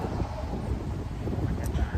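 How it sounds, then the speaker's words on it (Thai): Wind buffets the microphone at a roadside restaurant beside a main road, a loud, steady low rumble with constant gusty roar throughout. "ลมวอยวอย"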